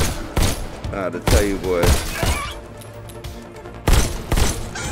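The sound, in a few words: gunfire in the video game Robo Recall, Oculus Rift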